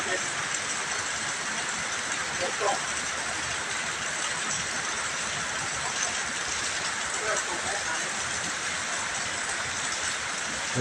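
Steady rain falls at a used car market in Thailand, a dense continuous hiss without letup, with occasional faint sounds and talk underneath.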